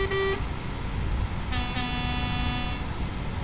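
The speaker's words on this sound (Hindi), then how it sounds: "कोई नहीं है, ऐसी हवा में हॉर्न बजा लेते हैं" A truck horn in Euro Truck Simulator 2 honks on a MAZ 6422 truck: one short toot, then a longer steady blast, over a constant loud drone of engine and road noise.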